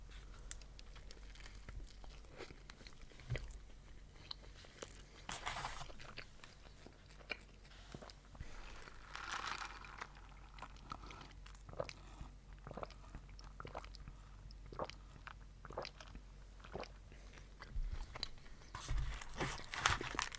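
Someone bites into and chews a McDonald's Big Arch burger with a spicy red sauce, giving soft, close, quiet crunching and wet mastication sounds with faint wrapper rustles, no talking.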